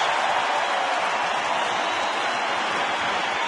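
A baseball crowd at a Twins home game claps and cheers in a steady, dense roar for a curtain call by Jim Thome after his home run, sustained and even throughout with no pauses.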